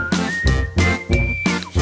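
A person whistles a short wavering tune alongside bouncy rhythmic music in a children's song, the whistle clear and close over the beat.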